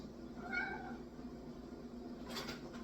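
A single soft, distant meow rises and fades over a steady background hum, with a faint noise near the end.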